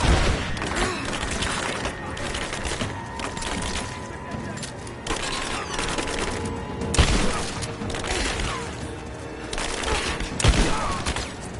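Gunfire in the video game Rise of the Tomb Raider, a continuous battle of overlapping automatic bursts and single shots with occasional booms, voices shouting over the shooting.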